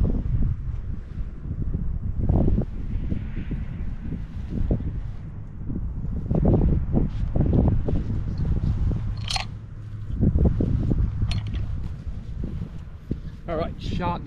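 Heavy, buffeting wind rumbles against the microphone throughout, with low gusty roars and occasional brief scraping noises; no one speaks.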